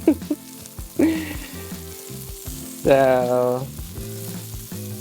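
Greek chicken meatballs sizzle and fry loudly in a hot pan, with bursts of stirring or flipping and one short spoken word near the start.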